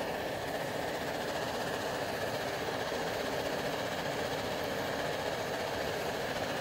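An MSR Dragonfly camping stove burns steadily with a BernieDawg silent damper fitted, giving a constant, even, subdued roar and hiss with no pauses, alone and fairly quiet.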